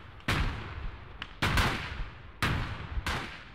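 Mortar and gunfire in the WWII strategy game Gates of Hell, with a 3-inch mortar involved: four heavy booming blasts at uneven intervals, each with a long rumbling tail and no talk.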